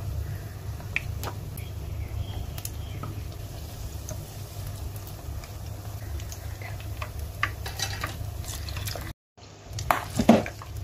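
Prawns and crab sticks fry in hot oil, with small irregular pops and crackles scattered over a steady low sizzle, close by and fairly quiet, with no talk.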